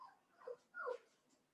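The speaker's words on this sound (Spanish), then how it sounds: "Tengo mi perra que anda jugando con ropa interior y viene y me llora." A female dog whimpers in two soft, high cries about half a second apart, close and quiet in an otherwise still room.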